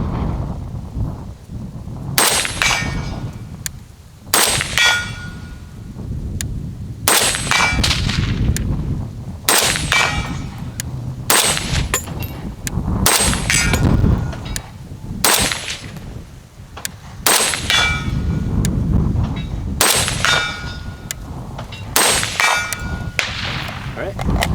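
A FEG HD-18 Dragunov-type rifle fired outdoors, around ten loud sharp shots at irregular intervals of a few seconds, each followed by a ringing clang of the bullet hitting a steel target.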